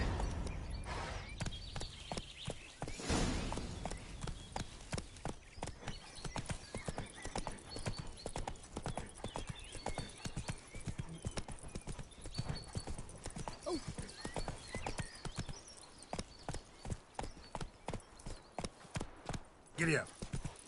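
Horse hooves clip-clop in a steady galloping rhythm in The Witcher 3, running close and continuous throughout, with occasional whinnies and a voice talking over the hoofbeats.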